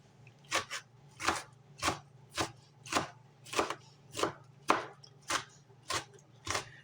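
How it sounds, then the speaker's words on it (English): Onions, jalapenos, pickles and tomatoes being chopped for a chopped salad, a steady run of about a dozen knife strikes on a board at an even rhythm, close and moderately soft, with nobody speaking. "So I'm going to mix this all up together and we're going to chop it."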